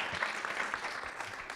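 Audience applause at a Paris entrepreneurship conference, a short steady wash of clapping from the crowd with faint murmuring beneath.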